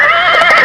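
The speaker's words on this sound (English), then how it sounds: "Horse." A single horse's neigh, a loud, close whinny with a wavering pitch that holds steady for under a second, clear and alone with no talk or other sound around it.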